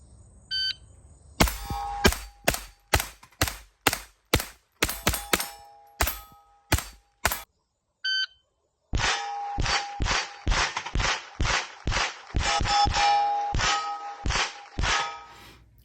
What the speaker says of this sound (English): just kind of getting ready, running some rounds through the gun